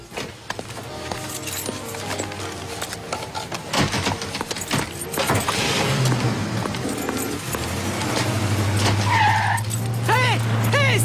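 Stolen car driving off, with tyres skidding and an engine rising in pitch, mixed with scattered footsteps and clatter and a raised voice near the end.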